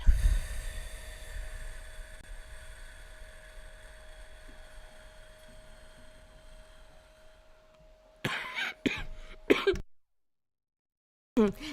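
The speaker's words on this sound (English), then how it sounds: "Every time I get down to that last breath, I'm coughing." Several short, harsh coughs burst out near the end after a long stretch of quiet background hum, followed by silence and one more brief cough.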